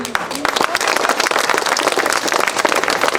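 An audience at a Tamil pattimandram debate breaks into loud, sustained applause. Dense, rapid clapping fills the whole stretch at steady intensity, and faint voices mix in beneath it.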